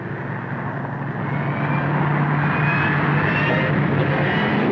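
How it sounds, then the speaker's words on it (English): A propeller airplane drones steadily overhead in a 1938-set adventure drama in Africa, a broad engine roar that swells slightly louder and holds, with no voices over it. "There's the plane."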